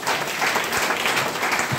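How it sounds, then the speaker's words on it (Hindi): An audience at a spoken motivational event gives enthusiastic applause, a dense steady wash of many hands clapping, close and loud throughout. "तो सबके लिए जोरदार ताली होना चाहिए।"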